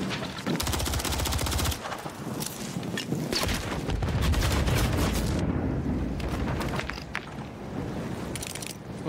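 Sustained gunfire in Warzone, a dense, loud stretch of rapid automatic shots and overlapping bursts with heavy low rumble, running almost without pause before thinning into scattered shots.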